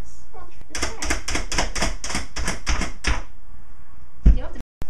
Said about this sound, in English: And Sophie and Alex chopped them to a fine consistency.